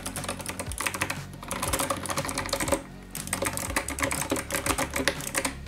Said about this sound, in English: This is why we love those mechanical keyboards, because it sounds just like the typewriters of old.